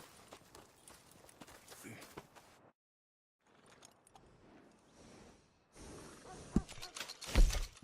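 Horse hooves in Red Dead Redemption 2 clop in short irregular bursts, first softly, then after a brief gap louder and closer with jangling tack and rustle near the end; some game voices murmur beneath.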